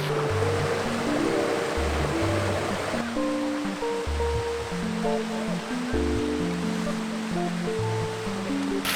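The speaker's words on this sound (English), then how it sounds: "you've got the cold river water running down" Cold river water runs into a steaming hot spring pool at a volcano, a loud, steady, close rush of churning water with continuous broadband noise and no talk.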